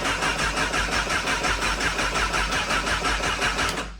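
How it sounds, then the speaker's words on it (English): A 2008 Honda CBR1000RR motorcycle engine cranking on startup, a loud close rhythmic starter churning that repeats steadily for several seconds before cutting off at the end. "So we're gonna try and start this thing up."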